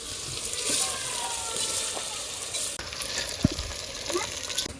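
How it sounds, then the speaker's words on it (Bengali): Raw rice stirred in oil in a village cooking pot for pulao with cinnamon, cardamom, cloves and ginger-garlic paste, giving a continuous gritty rustling sizzle and a few clinks near the end. "এবার চালটা সুন্দরভাবে চালিয়ে নেই"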